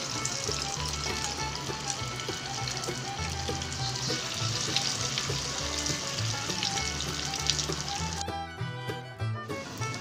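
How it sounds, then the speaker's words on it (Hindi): Veg lollipops fry in oil over a slow-to-medium flame, giving a steady close sizzle with crackling pops and a low bubbling undertone throughout, which thins out briefly near the end; nobody speaks. "हमें वेज लॉलीपॉप को स्लो से मीडियम फ्लेम पर पका लेना है। हमें हमारी वेज लॉलीपॉप को गोल्डन ब्राउन होने तक ही फ्राई कर लेना है।"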